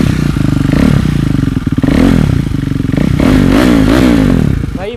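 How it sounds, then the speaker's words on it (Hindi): A KTM Duke 390 fitted with a loud aftermarket SC Project exhaust revs hard and close, its throaty roar rising and falling through several throttle blips before cutting off. "भाई बहुत लाउड है, और वो एग्जॉस्ट के मुकाबले ये बहुत ही लाउड है।"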